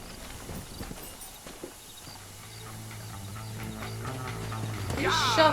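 Horse hooves clip-clop in the Red Dead Redemption video game, a faint, uneven patter of steps that picks up as a low engine-like hum and music swell toward the end.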